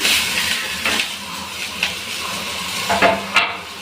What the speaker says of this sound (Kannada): ಟೊಮೆಟೊ ಸ್ವಲ್ಪ ಸಾಫ್ಟ್ ಆಗೋವರೆಗೂ ಒಂದೆರಡು ನಿಮಿಷ ಫ್ರೈ ಮಾಡ್ಕೊಳ್ಳಿ